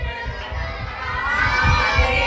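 A devotional gathering at a religious discourse shouts a jaikara in unison. The cheering is loud and close and holds steady throughout, with children's voices rising through the crowd.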